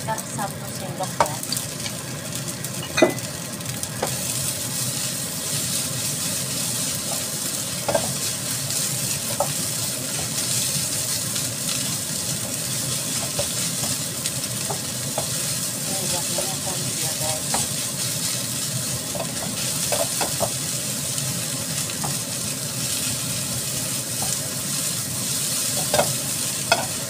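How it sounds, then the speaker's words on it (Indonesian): Steady high-heat sizzling of fried rice stir-frying in a wok, with a spatula scraping and clanking now and then as the rice is tossed, loud and close throughout. "Terus kalau bikin nasi goreng itu apinya harus besar."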